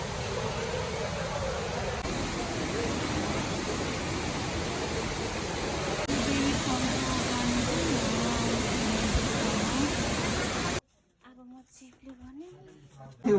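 Water flows out near Mahendra Cave at Sarangkot, making a steady, loud rushing hiss for about eleven seconds before it cuts off abruptly to quieter sounds and a brief voice.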